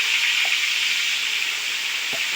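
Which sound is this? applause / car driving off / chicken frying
chicken frying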